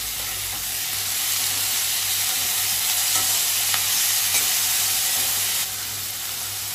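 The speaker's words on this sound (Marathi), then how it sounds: "आता कांदा आपला लाल झालेला आहे आणि त्यानंतर आपण टाकणार आहोत टोमॅटो. हे पण आपल्याला थोडंसं फ्राय करून घ्यायचं आहे." Tomatoes frying with reddened onions in a pan for paneer butter masala give a loud, continuous hissing sizzle with a few soft stirring scrapes, close up and without voices.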